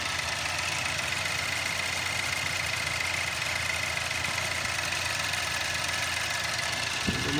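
Range Rover Evoque engine idling after a throttle body and injector cleaning, a steady close mechanical drone with a constant rattling ticking texture and no pauses.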